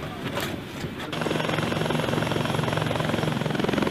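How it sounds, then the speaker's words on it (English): An Apache AH-64D attack helicopter flies during a team movement exercise at a training area in Germany, its rotor producing a loud, steady rapid thudding that sets in after a quieter first second and continues evenly. "Crews from the Apache AH-64D helicopters from combat aviation brigades often execute team movement exercises"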